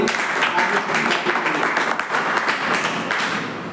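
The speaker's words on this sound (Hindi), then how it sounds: "तो जोरदार ताली हमारी।" A crowd claps steadily and loudly through a live healthy-living product demonstration, the applause dense and continuous with a few thuds.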